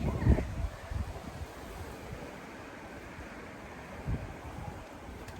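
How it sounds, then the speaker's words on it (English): Gusty wind blows outdoors on an afternoon, rushing and buffeting the microphone with a rumbling, uneven roar that swells in a few short bursts. "It's windy."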